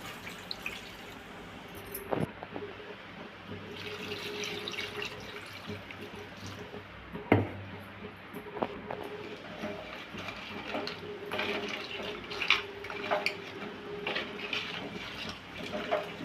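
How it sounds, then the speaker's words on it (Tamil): Water poured into a pot of spicy Tamil crab curry (nandu kulambu) cooking with drumstick pieces, a steady splashing trickle with scattered drips and a few sharp clanks from the pot, fairly quiet and without talk. "குழம்புக்கு தேவையான அளவு தண்ணி சேர்த்துடலாம்."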